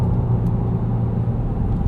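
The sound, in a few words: 2017 Volkswagen GTI Sport engine induction noise while driving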